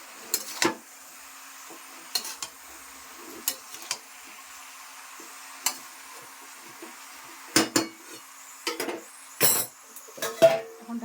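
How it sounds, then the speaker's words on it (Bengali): Metal pot lid knocked on and later lifted off a cooking pot of vegetarian food, heard as scattered sharp clinks and clatters over quiet kitchen background, with a few louder metallic hits near the end. "ঢাকা দিয়ে দিচ্ছি এখন ঢাকনা খুলছি"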